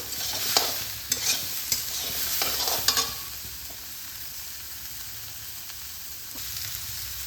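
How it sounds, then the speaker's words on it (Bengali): Mixed vegetables fried with chili powder and Kashmiri chili powder in a pan give brisk scraping stir strokes for the first few seconds, then a steady soft sizzle carries on alone, close up with no talking. "এই শুকনো মশলাগুলোকে আমি এর সঙ্গে একটু কষিয়ে নেব।"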